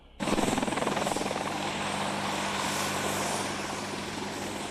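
AH-64 Apache Longbow attack helicopter, rotor chopping in sudden at close range with a loud, rapid thumping pulse over a steady engine whine that holds throughout.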